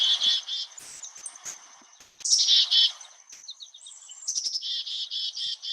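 A black-capped chickadee sings close and clear, its bright whistled and buzzy notes repeating in several quick bursts with short pauses between them and no other sounds alongside.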